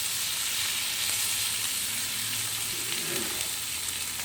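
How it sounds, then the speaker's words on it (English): Butter boiling in a pan while chicken parmesan cooks, a steady close sizzle and crackle of frying fat that holds evenly throughout with no voices. "I got my butter is boiling now."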